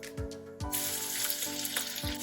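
Chopped onion tipped into cumin seeds crackling in two spoons of hot oil for a sprouted matki usal tempering, giving a steady close sizzle broken by a few soft low thuds.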